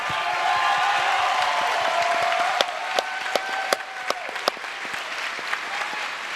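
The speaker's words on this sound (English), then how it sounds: "So 2nd place, let's give him a round of applause." A QuakeCon 2015 esports grand-finals audience applauds the second-place duel player, a sustained wash of clapping that thins toward the end into scattered sharp individual claps.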